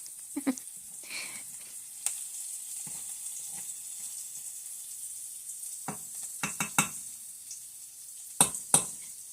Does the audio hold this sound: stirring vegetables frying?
yes